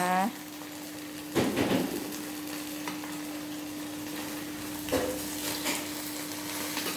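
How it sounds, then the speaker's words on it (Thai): Pork sizzles on a small, hot Thai mu kratha tabletop grill in a steady, close hiss, with a few louder stirring or scraping clatters and a voice at the very start. "วันนี้นะคะ หมูกระทะนะคะ ร้อนๆเลยจ้า หมูกระทะค่ะ"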